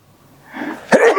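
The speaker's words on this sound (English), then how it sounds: "Sneeze coming on." A single sneeze: a short breathy build-up followed by a sharp, loud burst, close to the microphone.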